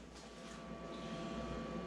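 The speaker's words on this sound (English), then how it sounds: "So at this point we can power on the printer." Inkjet printer powering on before a fluidics flush, giving a steady low mechanical hum with faint motor whir and a thin tonal whine building slightly over a couple of seconds, heard alone.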